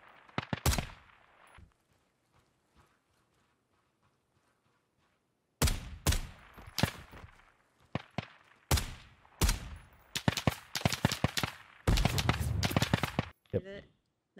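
Sniper rifle shots in the tactical shooter Ground Branch, a few sharp loud cracks early, then after a quiet gap a rapid run of gunfire bursts and impacts, with a voice talking in between.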